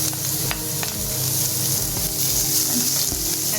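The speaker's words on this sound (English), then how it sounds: "Now I proceed to add the ginger garlic in the oil" Ginger and garlic frying in hot oil in a pan for chicken noodles, a loud steady broadband sizzle with a few faint scraping stirs, no voices.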